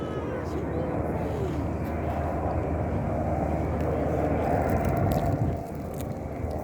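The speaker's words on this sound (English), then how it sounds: "There's a helicopter passing by." A helicopter passes by over a mountain viewing point, heard as a steady, fairly loud engine drone that holds for several seconds and then drops away near the end, with no talk over it.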